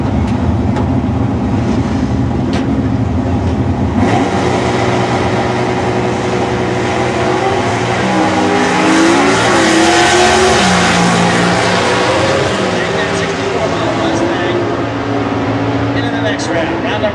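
Drag racing cars at a Super Stock event roar and accelerate down the strip, among them a 1975 Duster with a 360 wedge and a 400 cubic inch Chevrolet, with steady loud engine noise throughout under a commentator's talk.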